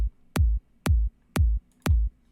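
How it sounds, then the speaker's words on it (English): Kick drum sample looping in Sonic Pi, four punchy low thumps evenly spaced every half second, each short and dry, heard alone. "go back to just this first kick drum loop"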